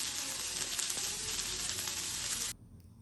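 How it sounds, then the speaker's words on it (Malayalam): Onions with salt sautéing in a pan for a tilapia fish curry, a loud close sizzle that runs steadily then drops away sharply near the end. "സവാളയും ഉപ്പും ഇട്ട് കൊടുക്കുക. അതൊന്ന് സോട്ട് ചെയ്ത് നന്നായിട്ട് സോട്ട് ചെയ്യണം."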